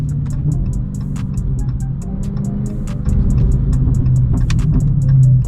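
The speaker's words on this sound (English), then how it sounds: "this Hellcat feel like a new car, bro, with these tires on" A 707-horsepower Dodge Hellcat on Blizzak snow tires cruises with a loud, deep engine rumble and road roar heard from inside the cabin, swelling as it picks up speed toward the end.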